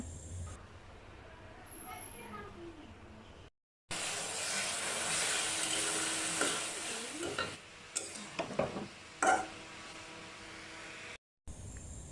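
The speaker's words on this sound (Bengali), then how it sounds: "একদিকে আমি কলেজা ভুনা করছিলাম" Liver being stir-fried (bhuna) in a pan gives a steady sizzle with spatula scrapes and clatter, broken by brief gaps; some talk is faintly audible in the background.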